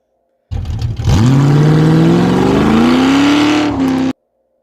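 A 1965 Ford Mustang with an open differential doing a burnout, its engine revving hard and climbing steadily in pitch for about three seconds while both tires spin, loud and close, then cutting off abruptly.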